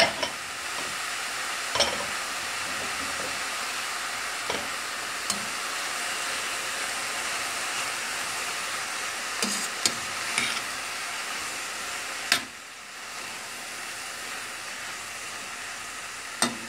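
Spinach with yellow and red bell pepper cooking in a pan, a steady close sizzle and hiss with a few sharp stirring scrapes scattered through, no talk.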